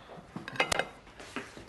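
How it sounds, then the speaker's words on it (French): A saucepan and dishes knock and clink as they are picked up and handled, a few quick close metallic chinks and taps clustered in under two seconds against a quiet room. "Prends la casserole avec toi."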